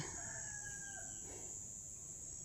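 A rooster crows faintly in the distance over a constant high-pitched hum and low background noise.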